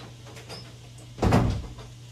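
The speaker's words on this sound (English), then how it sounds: "Hold on, I'm gonna close the door." A door pushed shut indoors, a single soft thud about halfway through, over quiet room hum.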